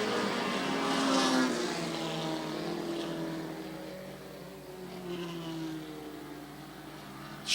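Super modified race cars at a short-track oval roar past in a pack, a loud continuous engine drone with pitch sweeping as cars pass, one engine sounding slightly off power, carried over a broad distant crowd-and-track wash.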